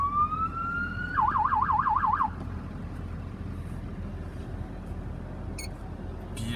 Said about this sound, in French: Ici, tu actives la sirène.